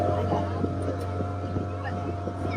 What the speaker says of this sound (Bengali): শুরু হয়ে গেছে আমাদের boat ride towards paradise beach island